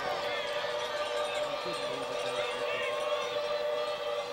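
Steady roar of a large crowd at a night high school football game between Houston ACD and Providence, a dense continuous stadium wash with a sustained tone running through it.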